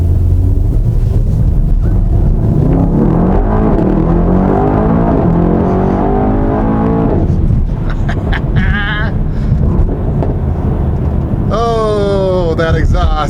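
A 2018 Mercedes-AMG E63S Edition 1 4MATIC+ rumbles loud and low from its exhaust while driving, the engine note rising through the revs over steady wind and road noise, with a voice talking briefly toward the end.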